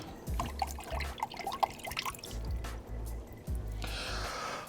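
A metal part cleaned by dry soda blasting is dipped into water, producing intermittent close drips, splashes and sloshing bursts, followed by a brief hiss of running water near the end.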